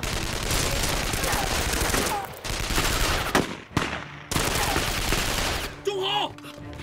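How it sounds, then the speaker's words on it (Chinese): Battle gunfire in a war film about the anti-Japanese war, with dense bursts of rifle and machine-gun fire in rapid fusillades, broken by short gaps, and a shout near the end. "哪来的枪声？"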